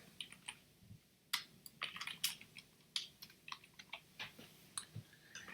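Someone types on a computer keyboard, quick irregular clicks of keystrokes, close but soft, with no talking.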